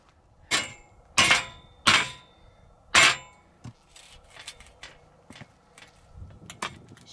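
Four sharp, ringing hammer blows strike a long piece of metal at an uneven pace to flatten it, followed by lighter taps and clinks nearby, while a building footer is being poured.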